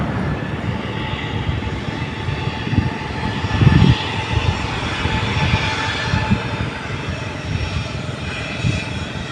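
A fixed-wing airplane landing at an airport gives a loud, continuous roar of jet engines heard from outside, with a rumbling swell partway through.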